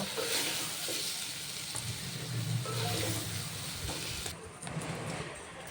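Paneer pieces shallow-frying in a pan for a paneer tikka roll, giving a steady close hiss of sizzling oil with a soft stir or two under it.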